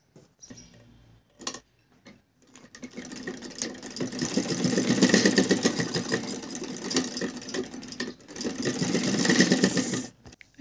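A sewing machine stitches a fabric divider, with a few short starts before a continuous fast mechanical whir that rises and falls, briefly pauses, then runs again, close and moderately loud with no talking.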